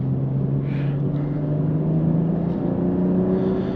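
A 2022 BMW M340i xDrive sedan's inline-6 engine pulls steadily under acceleration from inside the cabin, a continuous low drone rising gently in pitch over a few seconds, with no talking.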